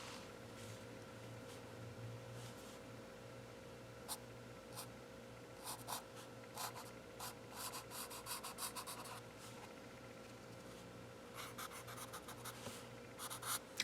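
A marker scratches and rubs across paper in quick, flicking strokes while drawing a cartoon Grinch, faint and close, in short irregular bursts.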